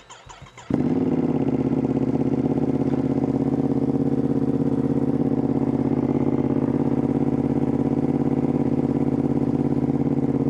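A Ducati Panigale V2S sportbike engine catches after a brief rustle and settles into a loud, close, unbroken drone that holds steady to the end.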